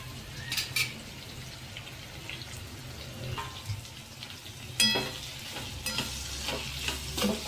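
Radish and green chillies being stirred with roasted gram flour in a pan, soft sizzling under intermittent scraping and clinks of a spoon against metal, close and moderately quiet.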